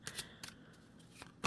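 A deck of tarot-style reading cards is shuffled by hand, several soft riffling bursts and flicks spaced irregularly, quiet and close with no talking.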